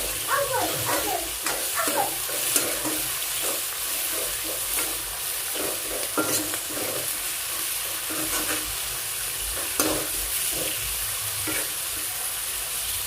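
Onions sizzle steadily in hot oil with curry leaves, coriander and mint, accompanied by occasional scraping and clinking of a spoon as the mixture is stirred.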